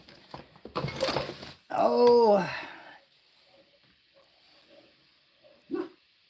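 A pet dog gives a loud bark followed by a whining, yelping cry indoors, then a quieter gap and one more short yip near the end.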